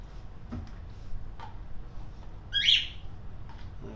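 A single bird chirps briefly in the middle of a quiet room while gesso is being mixed and brushed onto an icon panel, with faint ticking and low background hum around it.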